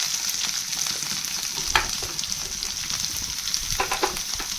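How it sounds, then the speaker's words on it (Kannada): Onion and green chilies frying in a pan, with a loud continuous sizzle close by and scattered stirring scrapes and taps. "ಹಸಿಮೆಣಸಿನಕಾಯಿ ಸೇರಿಸ್ಕೊಂಡು ಅದು ಸ್ವಲ್ಪ ಫ್ರೈ ಮಾಡ್ಕೊಳ್ಳಿ. ಈಗ ಈರುಳ್ಳಿ ಸೇರಿಸ್ಕೊಳ್ಳೋಣ."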